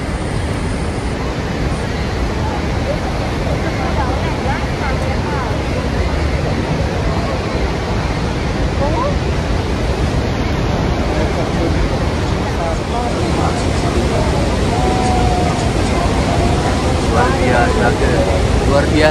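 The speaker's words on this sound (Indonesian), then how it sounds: "Wow, memang luar biasa besar ini air terjun." Niagara Falls roaring up close with strong wind and spray blowing, a dense continuous rush of water and gusts throughout, with people talking excitedly over it.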